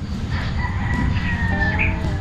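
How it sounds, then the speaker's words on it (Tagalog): A rooster crows in the Batangas countryside on an overcast morning, one drawn-out call rising and falling across a steady bed of rural background noise, moderately close and clear, with no one speaking. "tunog ng ibon, ibang hayop, manok"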